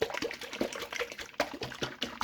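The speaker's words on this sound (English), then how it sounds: "we're going to shake this up vigorously and combine it all." A capped jar of liquid pulled-pork sauce ingredients, including honey, is shaken vigorously, giving a steady rhythmic sloshing and splashing with no pauses, close up and fairly loud, with no voices.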